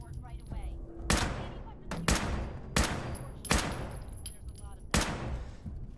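Bursts of video game gunfire crack out in five sharp volleys spaced about a second apart, loud and close, with faint speech-like murmur beneath.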